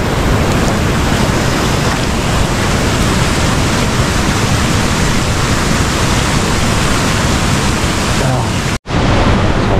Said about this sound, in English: The waterfall up there.